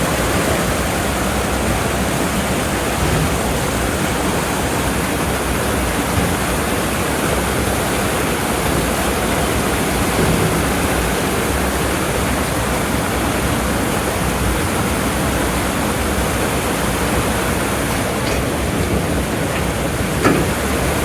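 River water rushing through the head gate of a century-old hydroelectric plant's canal, a loud, dense, unbroken roar of flowing water that stays constant throughout.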